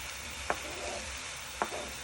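Peppers sizzling in a hot pot with onions for Trinidad pelau, a steady broad frying hiss throughout with two brief sharp clinks of a utensil against the pot.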